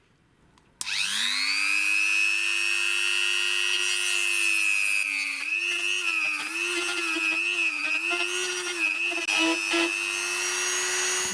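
A DrillPro die grinder spins up with a sharp start and whines at high speed, its pitch dipping and wavering as a sanding disc on a rubber backing pad grinds against the workpiece, loud and continuous throughout.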